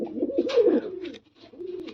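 A female pigeon coos nearby in two throaty phrases split by a short pause, with no talk.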